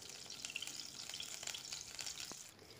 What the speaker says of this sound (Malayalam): 1 ടേബിൾ സ്പൂൺ കൂടി ഗീ ഒഴിച്ചു കൊടുക്കാം.